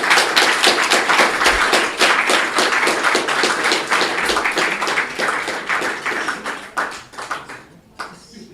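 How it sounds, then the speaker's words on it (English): Lecture audience gives a big round of applause, loud, crisp, rapid clapping from many hands that runs for several seconds, thins toward the end and stops abruptly. "We'll have a big round of applause and then a few questions."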